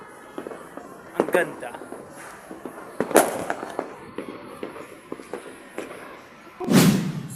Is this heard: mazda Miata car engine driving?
no